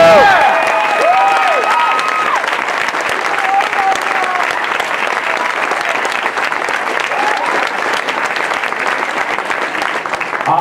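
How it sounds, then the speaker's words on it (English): A large convention audience at Botcon applauds and cheers loudly and continuously, with scattered shouts and whoops throughout the dense clapping. "Let's hear it for Optimus"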